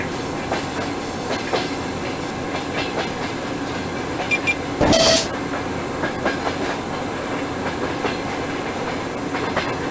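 A train in a simulator game rolls along the track with a steady rumble and rhythmic clickety-clack from the wheels, and a short hissing burst in the middle stands out above the constant running noise.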